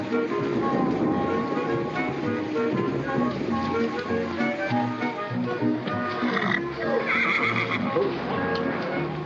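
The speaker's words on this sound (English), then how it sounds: "Oh, horsey." A horse neighs and whinnies repeatedly in a loud, close, drawn-out series of calls over a noisy outdoor background, with a voice briefly heard.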